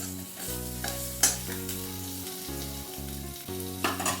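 Capsicum pieces dusted with turmeric are stirred in a frying pan, producing a loud, steady sizzle with brief scraping bursts from the spoon, beneath a low background hum.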